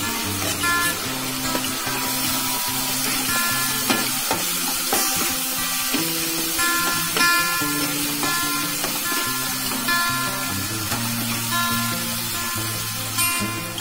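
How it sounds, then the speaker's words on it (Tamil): Dried fish cooking in a tamarind-laced thokku in a pan, a steady bubbling sizzle with scraping stirs and occasional spatters, close and fairly loud, with no voices. "இப்போ ஒரு 5 நிமிஷம் கருவாடு வேகட்டும்"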